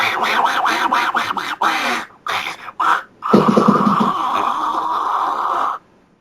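A voice mimics a guttural death metal growl that comes out like an angry duck's quack: a run of choppy, rasping bursts, then one long sustained snarl, loud and close.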